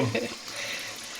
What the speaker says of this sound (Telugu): అట్లీస్ట్ 6-7 టైమ్స్ కడగాలి. మనకి అసలు ఈ వాటర్ అనేది క్లియర్ అయ్యేదా కడుగుతూనే ఉండాలి.